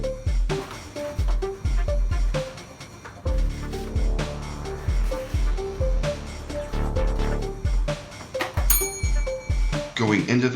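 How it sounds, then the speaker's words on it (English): Bell rings out to signal a correct answer in a memory game show, bright metallic dings sounding over a busy rhythmic music bed with steady beats. "If you hear the bell, that is correct"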